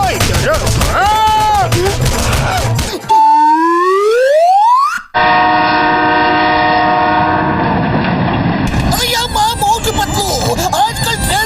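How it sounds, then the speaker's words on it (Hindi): Cartoon train sounds from a Motu Patlu episode: a loud horn with a sliding pitch sweep, then a sustained chugging, whistling train passing, with cartoon voices talking before and after. "तुम्हारी ट्रेन छूट गई, जल्दी पकड़ो।"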